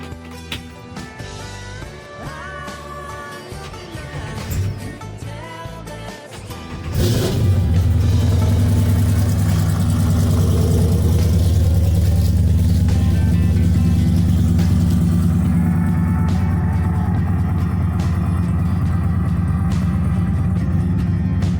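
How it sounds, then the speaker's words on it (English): A truck engine cranks and fires up, then settles into a loud, close, lumpy idle with a rhythmic cold cam chop that continues steadily for many seconds, after a stretch of background noise. "I love the cold chop that this motor has."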